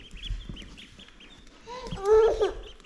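Farmyard fowl among chickens and ducks call out in a short burst of squawking cries near the end, loud and close after quieter rustling, with faint voices around.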